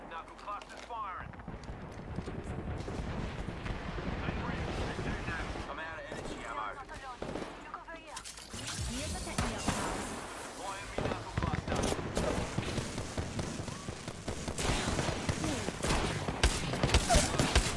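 Rapid weapon fire in a video game, with dense overlapping shots and explosive bursts running throughout, under a player's excited talk.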